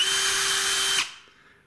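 A Bosch EasyImpact 12 (2019) cordless impact drill driver runs in screwdriving mode, giving a loud steady motor whine for about a second before it cuts off and winds down.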